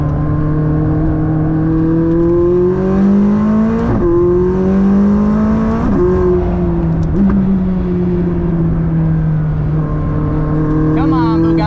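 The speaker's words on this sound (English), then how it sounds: "track in the McLaren at Sonoma Raceway behind a Chiron Supersport" McLaren P1 supercar at speed on the Sonoma Raceway track, a loud close engine note rising and falling through repeated gear shifts and acceleration, with a voice talking over it.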